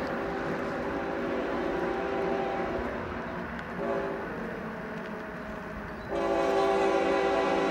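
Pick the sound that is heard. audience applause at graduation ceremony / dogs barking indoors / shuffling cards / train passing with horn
train passing with horn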